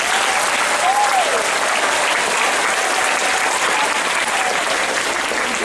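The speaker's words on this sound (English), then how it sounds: "Let's give them another round of applause." An audience applauds the choral directors at a choral concert, steady dense clapping filling the hall for several seconds at an even level, with no one speaking.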